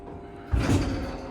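A Schindler HT 330A hydraulic elevator door at a hotel slides shut with a soft rumbling thud, close and brief, with the low hum of the cab behind it.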